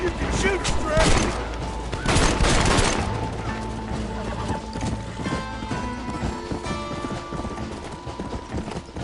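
Gunfire in the Red Dead Redemption video game during a horseback fight, with scattered shots and galloping hooves amid loud game music and ambience, and brief voices.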